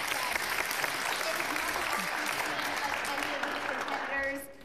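A crowd applauds winners at a competition event, dense continuous clapping from many people that holds steady, then thins and fades near the end.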